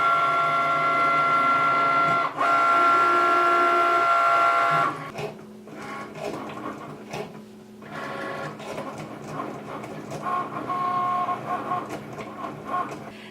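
A Cricut cutting machine cuts a Halloween shirt stencil with a steady mechanical whir and motor buzz. Its tone shifts partway through as the carriage moves in short, changing passes, and no voices are heard.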